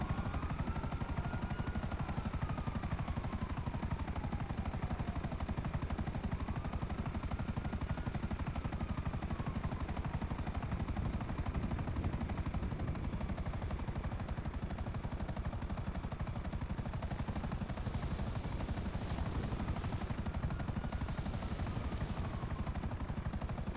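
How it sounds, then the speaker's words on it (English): Helicopter in the GTA video game, a steady droning rotor and engine hum that runs unbroken and fairly loud throughout, with a faint high whine above it and rattling bursts like gunfire in the mix. "Oh, the helicopter."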